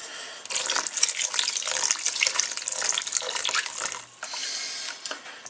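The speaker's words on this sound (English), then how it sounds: "We'll put the water in." Water pours steadily into a clay bowl while making rye bread, a continuous close splashing gush that runs for about four seconds, then briefly drops and resumes a little quieter.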